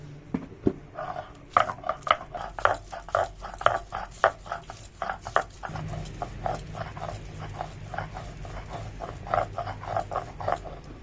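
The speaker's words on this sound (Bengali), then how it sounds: "আদা রসুনটা ভালো করে বেটে নিই" Ginger and garlic are ground into paste on a stone, heard as a steady series of rhythmic scraping and knocking strokes, close and moderately loud, repeating at a quick even pace with a brief change partway through.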